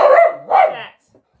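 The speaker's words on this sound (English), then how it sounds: "Oh, there's dogs." Dogs bark twice in quick succession, loud and close, in a home setting, followed by a brief faint yip and then quiet.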